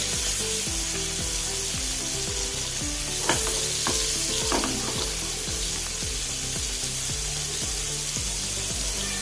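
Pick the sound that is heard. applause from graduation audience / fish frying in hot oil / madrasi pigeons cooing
fish frying in hot oil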